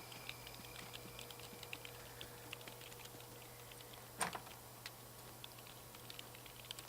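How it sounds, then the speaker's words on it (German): Quiet, steady keyboard typing in The Sims 3 with irregular soft clicks over a low hum, and one louder knock partway through. "Die Kalle schreibt noch"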